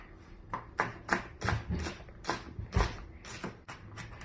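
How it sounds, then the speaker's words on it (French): A knife dices an onion into small cubes on a board with a quick, irregular run of crisp, close taps, heard alone without talk. "Pour commencer, coupez votre oignon en petits cubes."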